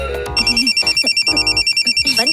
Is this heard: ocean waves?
no